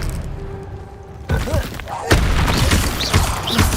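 Expelliarmus disarming spell cast in the wizarding game Hogwarts Legacy, a sudden loud thump and blast over ongoing combat noise, followed by another sharp impact, with a voice speaking.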